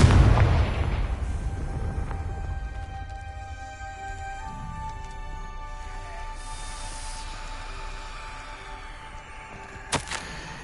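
The Confringo spell in Hogwarts Legacy sets off an explosion: a deep booming blast at the start that fades into a lingering rumble, then a sharp pop near the end.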